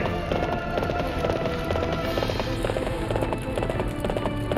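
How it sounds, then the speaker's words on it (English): Horse galloping in the Warriors Orochi 3 Ultimate battle game, a rapid steady run of hoof beats under dense battlefield noise and game music, continuous and loud throughout. "The advantage I have is this horse, which is slightly faster."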